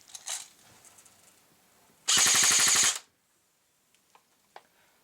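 A G&G Combat Machine airsoft gun with its stock motor and a 9.6 volt 1200 mAh battery fires one short full-auto burst, a rapid, even buzz of shots lasting about a second, loud and close against a quiet room.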